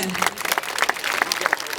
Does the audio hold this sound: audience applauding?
yes